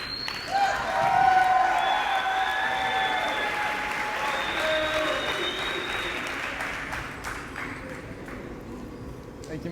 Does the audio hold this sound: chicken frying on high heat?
no